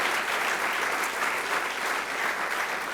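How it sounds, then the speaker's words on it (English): A festival audience at a World Science Festival session in Brisbane fills the room with thick, sustained applause, a continuous even roar of many hands clapping at once. "Could we have a round of applause?"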